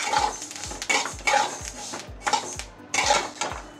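Home-grown sesame seeds stirred in a pan over a low gas flame, a steady run of scraping strokes about every second, close and fairly quiet, with no talk.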